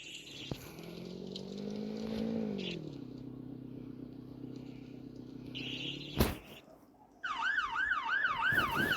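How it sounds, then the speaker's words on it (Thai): Police car siren wailing in a steady rising and falling tone, then cutting off after a sharp burst, followed by a fast yelping warble; moderately close, with faint background noise. "มีตำรวจไซเรน"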